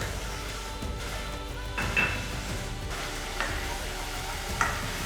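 Onions and spices for a coconut kidney bean curry sauté in a pot as a constant, fairly quiet sizzle, broken by a few faint utensil clinks against the pan.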